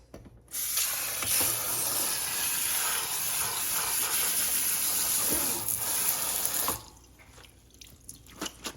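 Split peas rinsed under a steady stream of running tap water, a continuous loud hiss and splash lasting several seconds before it cuts off, followed by faint clinks and handling sounds.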